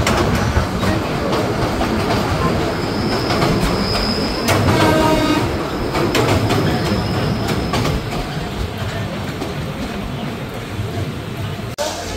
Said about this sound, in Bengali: এখন ট্রেনটি অতিক্রম করবে কাঞ্চন ব্রিজ, যেটা কিনা পুনর্ভবা নদীর উপরে নির্মিত।